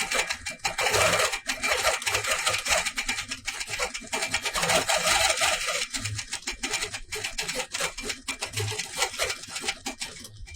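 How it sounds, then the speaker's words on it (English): A longarm quilting machine with a stitch regulator stitches a door hanging, giving a steady, busy mechanical chatter with a rapid ticking pulse that runs close and continuously throughout. "Now, if you're used to free motion quilting on your home machine, you're going to say, that thing sounds weird."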